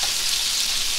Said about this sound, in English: I've been sauteing these what seems like forever.